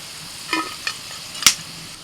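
Onions fry in oil with a soft, steady sizzle, punctuated by a few brief scrapes and one sharper clink of a spoon against the pan, close and moderately quiet with no voices.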